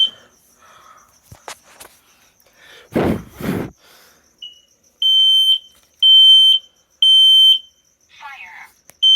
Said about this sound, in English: There is the carbon dioxide and smoke alarm.